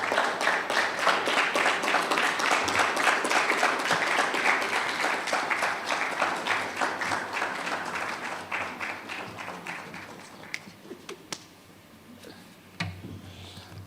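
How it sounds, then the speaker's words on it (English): An audience at a Ghana Institute of Architects annual general meeting applauds an architect's introduction, dense sustained clapping that gradually thins and fades to a few scattered claps near the end. "Let's give a round of applause for Mr. Architect William Niteko Ivan Samfun"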